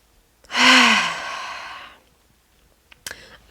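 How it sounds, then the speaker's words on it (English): Deep yoga breathing heard close and loud: one long audible exhale through the mouth with a sighing rush of air that fades, followed by a short nasal intake. "Inhale through the nose, out through the mouth."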